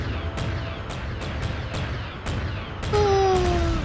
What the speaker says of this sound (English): Were they gonna bombard us, I wonder?